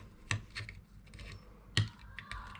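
Cutters snipping the leads of large capacitors close to a vintage electronics board: two sharp, close snaps about a second and a half apart with light handling noise in between.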